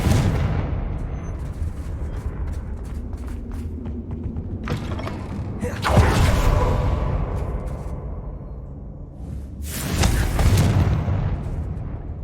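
Confringo blasting spells going off in Hogwarts Legacy: two sudden loud broadband blasts about four seconds apart, each with a rumbling tail, over a continuous low mechanical creaking and hum.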